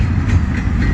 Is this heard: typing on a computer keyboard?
no